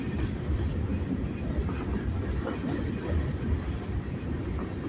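A freight train rumbles beneath Main Street in Greenwood, South Carolina, with a northbound manifest and a southbound local. The deep, continuous rolling noise of the railcars holds steady and loud with faint clatter, and no voices are heard.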